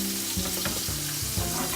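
Chinese five-spice frying in a pan with citrus and ginger for a sticky glaze, giving a steady close sizzle with soft stirring scrapes and small bursts throughout.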